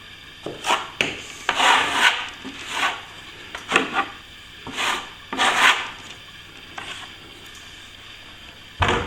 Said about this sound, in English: Plasterboard. I'll just scratch it up a bit.